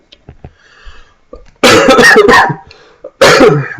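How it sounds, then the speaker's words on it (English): A man coughs from a tickle in his throat: small throat noises at first, then a loud, close burst of several rough coughs, a short pause, and another hard cough. "I apologize about that cough, that tickle in my throat, man."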